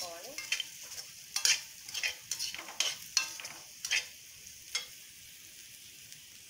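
Masala sizzles and is stirred in a pan while frying red for sweet corn and carrot rice, with repeated scraping strokes over a soft hiss, close but fairly quiet.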